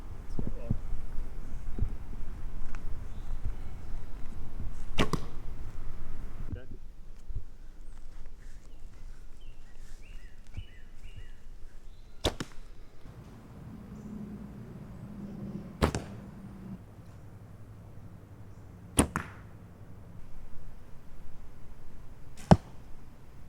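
Arrows loosed from a Sanlida Eagle X9 takedown recurve bow strike outdoors as a few sharp, isolated thwacks spaced several seconds apart, heard over steady background noise with occasional faint talk.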